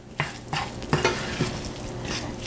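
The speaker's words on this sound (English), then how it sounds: "I'm going to stir the tofu up to get all the seasonings blended" Seasoned tofu being stirred in a frying pan, with a spatula scraping and clacking in several distinct strokes over a steady background sizzle, close and clear with no talking.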